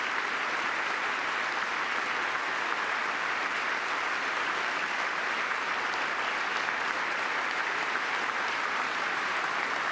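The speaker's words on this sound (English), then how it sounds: "Oh, did the Democrats just clap?" Broad, steady applause from lawmakers in the congressional chamber during a presidential address, a continuous roar of many hands clapping without pause.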